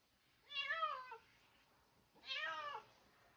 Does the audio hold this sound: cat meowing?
yes